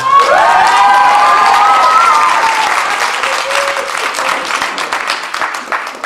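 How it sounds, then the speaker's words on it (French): A concert audience bursts into loud applause with cheering and high shouts over it, the whoops fading after a couple of seconds while the clapping carries on strongly to the end. "Encore les applaudissements."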